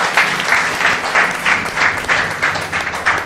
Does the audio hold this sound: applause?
yes